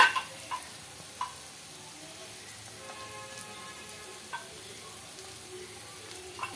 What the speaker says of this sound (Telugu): ఫ్రెష్గా దంచుకున్న అల్లం వెల్లుల్లి పేస్ట్ అయితే వేసుకుంటున్నాను